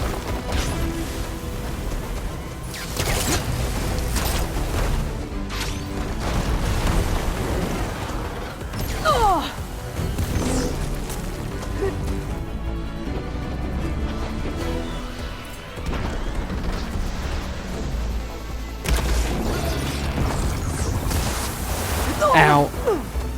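Shooting and explosions in Horizon Forbidden West, with repeated crashing blasts and impacts across a busy combat mix, voices heard now and then among them.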